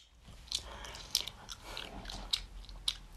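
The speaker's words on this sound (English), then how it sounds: "How am I supposed to stop chewing my gum?" Close, wet chewing of gum with a handful of sharp little snaps and clicks at irregular intervals, quiet and alone with no talking.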